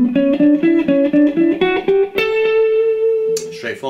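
Electric guitar playing fast alternate-picked six-note fragments, rapid even bursts of picked notes climbing in pitch, then a held sustained note near the end, loud and alone.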